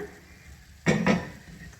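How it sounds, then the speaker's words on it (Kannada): Dry fruits being stirred into dates in a pan or bowl, giving two short, close scraping and clinking bursts of spoon on metal against a quiet background. "ಈಗ ಎಲ್ಲ ಡ್ರೈ ಫ್ರೂಟ್ಸು ನಾನು ಖರ್ಜೂರದೊಂದಿಗೆ ಹಾಕ್ಕೊಂಡು ಚೆನ್ನಾಗಿ ಮಿಕ್ಸ್ ಮಾಡಿದ್ದೀನಿ"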